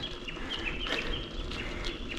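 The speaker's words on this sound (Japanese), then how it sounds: "ああ、鳥の鳴き声が。" Birds chirp and sing in the open countryside on a clear day along a mountain road climbing into Yoshiwa, Hatsukaichi, with repeated short calls over steady wind or road noise.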